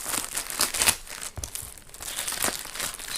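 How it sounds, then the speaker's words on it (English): Plastic packaging around a Digitech Whammy IV guitar effects pedal crinkles and tears as it is cut open with a knife, close and steady, with a few sharper rips. "start off the unwrapping here"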